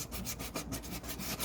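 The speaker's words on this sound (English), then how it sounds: "you're going to sandpaper scuff right above where your, right below where those marks are" Sandpaper, 100 grit, scuffing the plastic wall of a portable ice chest: rapid back-and-forth rasping strokes in a steady rhythm, close and continuous with no talk.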